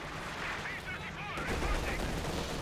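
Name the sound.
MG 42 machine gun suppressing fire, Company of Heroes 2 game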